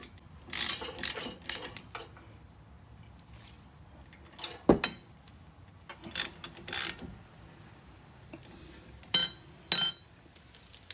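A wrench working on the 19 mm brake caliper guide pins of a 2007-2012 Acura RDX during a brake pad replacement: scattered metallic clinks and short ratcheting bursts, close and intermittent, with quiet gaps and no talk.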